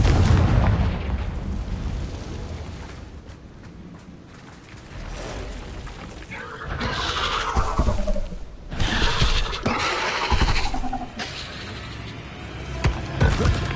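Spell explosions and magical bursts from Hogwarts Legacy, with a deep rumbling boom followed by a string of crackling, shattering blasts over continuous low game ambience, loud and close.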